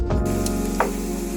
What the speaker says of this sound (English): You want to cook the frozen bacon over medium-high heat until it's crispy.